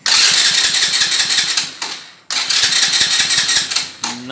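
A Shineray Phoenix 50 moped engine cranks repeatedly without catching, two long bursts of loud, rapid, buzzy starter churning separated by a brief pause, close to the microphone.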